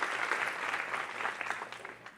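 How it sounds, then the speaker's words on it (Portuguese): A church congregation clapping throughout a Portuguese-language sermon, steady dense applause from a crowd at moderate distance, with no voices over it. "E se você crê, aplauda Ele mais uma vez."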